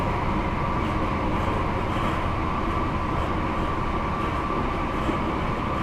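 A Class 700 train in Train Sim World 4 on the East Coast Main Line, a steady loud rolling rumble of wheels and motors with no breaks, heard from the cab.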